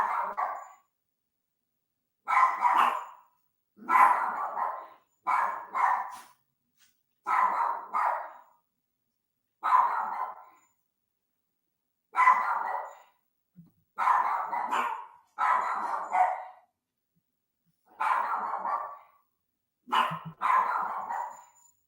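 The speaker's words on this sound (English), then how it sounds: "Earlier, Simi was barking at the chair next to me." A dog barks in repeated single and double woofs, fairly close, spaced by short silences across the whole stretch, with no other sounds between the barks.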